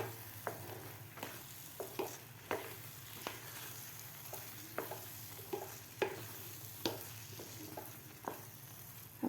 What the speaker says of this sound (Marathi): आता आपण याला 1 मिनिटभर झाकण न ठेवताच परतून घेऊया.